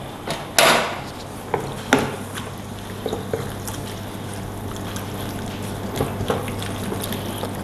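Pieces of beef dropped into a pot of boiling water during Chinese-style home cooking, giving a couple of sharp splashes over a steady bubbling, rumbling boil with faint drips.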